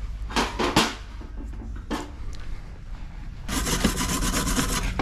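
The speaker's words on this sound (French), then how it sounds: "Je vais le brosser à la brosse métallique." A wire brush scrubbing a bicycle bottom bracket on an Orbea Oiz bike, with a few sharp scraping strokes at first and then a sustained, dense bristly scrubbing, close and fairly loud.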